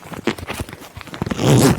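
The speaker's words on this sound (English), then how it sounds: "I can show you what it looks like all the way zipped up." A chunky zipper on a warm winter coat is pulled up, starting as scattered small clicks and ending in a loud, close rasping run.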